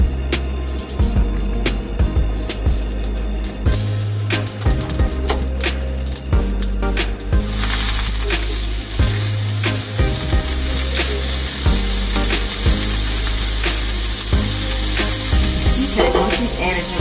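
Butter melts into hot olive oil in a pan, hissing and crackling loudly and up close as a utensil scrapes and stirs with clinks, the sizzle settling into a constant bright fizz.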